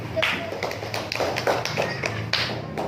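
A class of schoolchildren claps through the tepuk anak soleh chant in an Indonesian classroom, quick rhythmic hand claps mixed with young voices.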